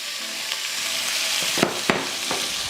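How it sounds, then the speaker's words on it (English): Ground beef frying in a pan makes a continuous close sizzle, with a few sharp clacks and scrapes of a spoon toward the end and no talking. "let's just go ahead and add our ground beef"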